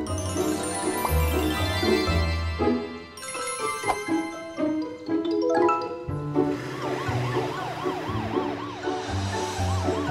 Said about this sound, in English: Morphle, morph into an ambulance.